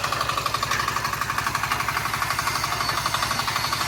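A steady mechanical rumble with rapid rhythmic knocking from a concrete mixer churning at a distance on a house build site in the Philippines, continuous throughout with no voices.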